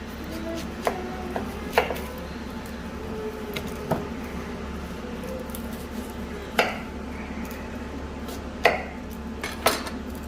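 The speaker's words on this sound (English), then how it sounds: "You cut your onion however you want." A yellow onion is chopped with a knife on a board for tomato basil soup: sparse, irregular crisp taps up close, a handful spread over several seconds, above a steady low background hum with no talking.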